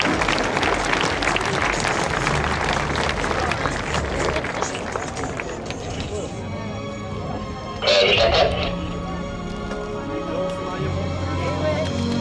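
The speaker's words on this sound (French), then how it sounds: "vous pouvez les applaudir et les encourager encore car ce n'est pas fini" Air show crowd applauding the Patrouille de France, a broad outdoor patter of clapping that fades after several seconds, with a brief louder burst near the end and a commentator's voice over it.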